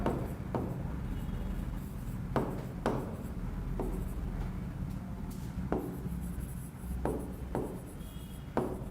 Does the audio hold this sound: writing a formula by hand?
yes